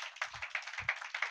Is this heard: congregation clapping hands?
yes